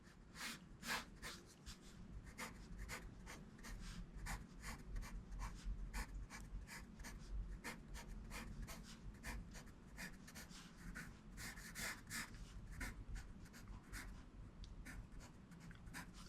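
A pen or pencil sketching an architectural drawing on paper makes quiet, continuous scratchy strokes in quick repeated bursts, close and faint, with no speech.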